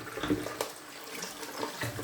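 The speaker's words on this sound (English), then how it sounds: "I'm going to have the water running because that's how I typically clean up." Water runs steadily from a tap during cleanup, a continuous hiss and splash with small shifts in flow, heard fairly close and alone.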